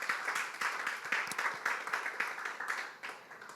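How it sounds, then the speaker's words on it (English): An audience at a cultural event claps for a Nigerian Latin ballroom dancer's introduction, a steady run of moderately close clapping with distinct individual claps that tapers toward the end. "I'm going to give a break so you can clap"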